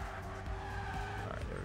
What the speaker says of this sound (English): This was pretty tight drift here.